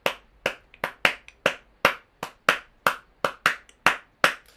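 Sharp hand claps tapping out a 6/8 clave bell pattern, about fourteen crisp close strikes in an uneven repeating rhythm with short pauses between groups, loud and dry with nothing else.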